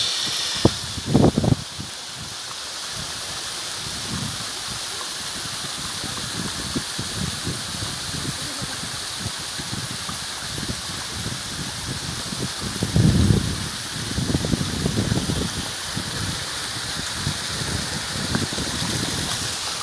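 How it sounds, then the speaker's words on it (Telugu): Talakona waterfall near Tirupati roars with a steady, dense rush of falling water throughout, close and continuous, with a couple of brief louder splashy bursts and faint voices in the background. "ఇదండి తలకోన వాటర్ ఫాల్స్, చాలా చక్కగా ఉంది కదా"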